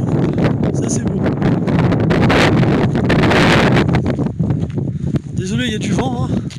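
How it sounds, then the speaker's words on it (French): Wind buffets a microphone outdoors, producing a loud, rough, low rumble with gusty surges throughout, and a voice briefly sounds near the end. "Désolé, il y a du vent."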